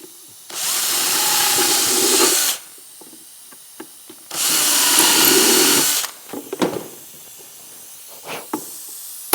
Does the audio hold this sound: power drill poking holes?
yes